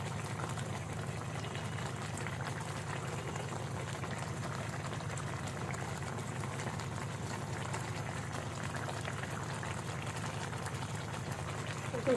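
Pabda fish simmering in a mustard-poppy seed gravy, a steady low bubbling and gentle boil that runs evenly throughout with no voices.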